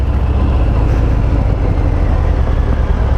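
A 2020 Harley-Davidson Fat Bob 114 motorcycle rides in second gear, its engine a loud, steady low rumble with heavy wind buffeting, heard close up with no voices.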